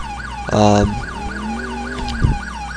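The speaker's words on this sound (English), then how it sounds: "I'm going to just turn my siren on." Police siren in whelp mode from the video game GTA IV with the LCPDFR mod: a loud, rapid, warbling wail cycling several times a second, opened by a brief blaring horn-like blast, with no talk.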